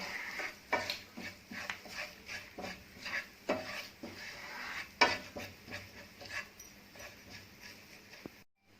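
Soya 65 being stirred with spices and garam masala in a pan, with repeated rhythmic scraping and clinking strokes of a spoon against the pan, close and fairly loud, with a faint sizzle underneath.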